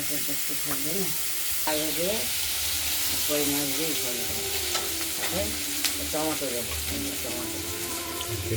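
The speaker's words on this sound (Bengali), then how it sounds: "এটা আগে আলু আর বিনসগুলো একটু ভাজা ভাজা করে নিই" Potatoes and beans sizzle steadily as they fry in a pan, with repeated stirring scrapes throughout and a voice talking over the cooking.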